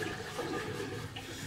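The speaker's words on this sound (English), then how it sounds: "Pip, if I pour the water out, then it can't be getting soggy anymore" Water is poured out of a toy, likely a soaked sponge toy during kitchen play, giving a steady close gushing and splashing that lasts throughout without talk.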